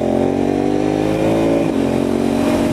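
KTM Duke 990 motorcycle engine held at the rev limiter, a loud, close, sustained buzzing drone with a brief dip and recovery partway through.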